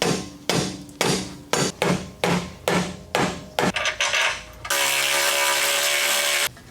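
Black mallet striking metal parts during repair of a totaled 2024 BMW X3, about nine sharp ringing blows at an uneven pace, then a steady loud mechanical hum.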